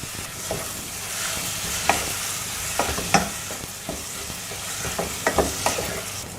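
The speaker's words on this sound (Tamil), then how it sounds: "நல்லா கிளறி விட்டுட்டே இருக்கலாம்" Spiced rice mixture with turmeric and yogurt is stirred in a pan for tawa rice, a continuous sizzle broken by repeated spatula scrapes and taps, close and fairly loud, with no voices.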